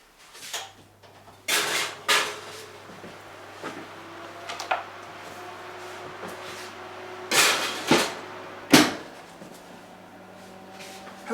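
Baking tray slid into a hot oven during a home baking session: a few sharp knocks and clatters of metal, oven door and rack, spaced irregularly across a quiet kitchen with a low steady hum underneath.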